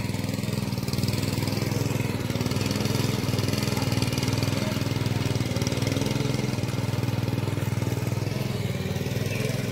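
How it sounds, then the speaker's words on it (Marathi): Engine-driven water pump running steadily to irrigate a rice paddy during planting, a constant loud mechanical drone close by with no change in pace. "पाण्याचा जुगाड भारीच केलेला इंजिन लावून"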